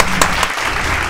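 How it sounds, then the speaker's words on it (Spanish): Brief burst of applause from a studio audience welcoming a singer onto a talk show, dense and steady clapping that fills the short moment. "un aplauso"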